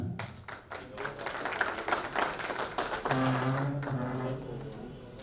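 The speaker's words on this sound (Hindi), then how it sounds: "जोरदार तालियां" Loud, sustained clapping from the crowd at a security agencies' association award ceremony as a guest is welcomed with a bouquet, rapid overlapping claps throughout, with a voice briefly speaking over the latter part.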